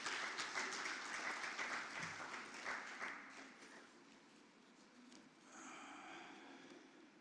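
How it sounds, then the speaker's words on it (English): Audience applause for a man being inducted into a hall of fame, a dense burst of many clapping hands at moderate distance that thins after a few seconds and swells again lightly near the end, with no talking. "So give Mr. Thomas another big round of applause."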